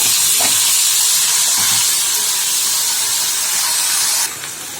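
Fresh spinach dropped into a hot oiled pan for a simple home-cooked dish, giving a loud steady sizzling hiss that holds for about four seconds before easing off.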